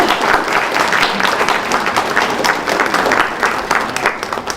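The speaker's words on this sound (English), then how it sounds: "Please, a round of applause," Audience applause fills a hall of fame ceremony at Lees-McRae College, steady dense clapping sustained and loud throughout.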